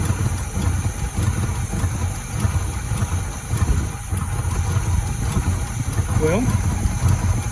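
Engine of a 1979 Chevy truck, left sitting unused for a long time, idling with a steady low rumble throughout, and someone talks over it.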